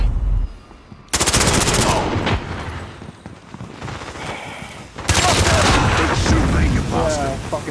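Loud automatic gunfire from a Modern Warfare match, likely an MP5, opens in sustained bursts that break off and then resume heavily. Other game sounds and a voice run through the gaps.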